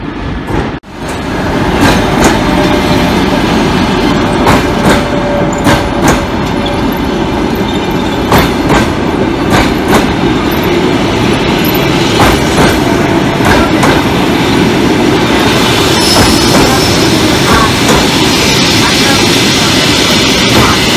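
A passenger train pulls into a station with loud, close rumbling and clattering wheels that build to a sustained roar, broken by rhythmic clicks and faint squeals.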